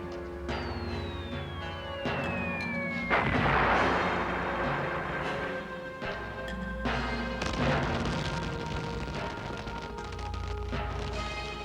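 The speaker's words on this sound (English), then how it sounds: "a meal interrupted by the falling of bombs" Bombs falling and exploding during the Pearl Harbor attack: a descending whistle drops into a heavy, rumbling blast, followed by further booms and artillery-like bursts, loud and close, with tonal music underneath.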